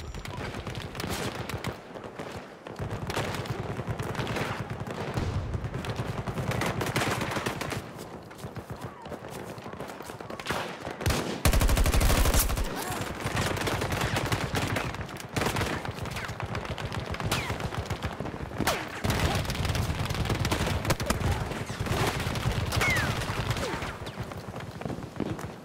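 Heavy gunfire rings out in a video game battle as Russian forces attack a capture point, sustained and dense with bursts of automatic fire, loud and continuous throughout with a few heavier booms near the middle.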